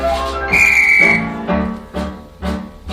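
A shrill referee whistle blows several times, one long blast followed by a few shorter sharp toots, loud and close over a low background hum.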